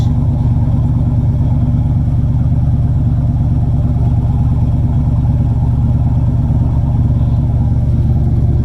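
Steady, loud boat engine idling during winterizing, with a continuous low rumble and even throbbing rhythm, running alone without voices throughout.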